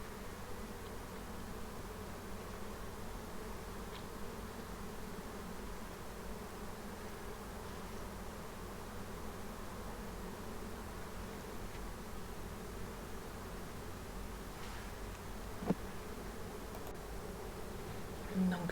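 A honeybee swarm in a hive gives off a steady, dense buzzing drone that holds evenly throughout, close and moderately loud with no talking.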